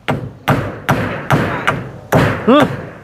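Rhythmic thuds of something being hammered or pounded in, seven or eight heavy close blows at roughly half-second intervals, with a short vocal sound near the end.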